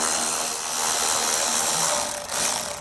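A power tool whines continuously up close while backing out 7 millimeter head screws from the front end of a 2021 Chevrolet Spark during a base plate installation, steady with a slight dip near the end.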